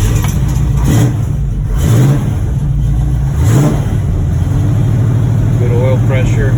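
A 1968 Camaro's small-block V8 with Flowmaster dual exhausts starts and is revved several times, loud and close with rising and falling engine surges, while someone talks over it.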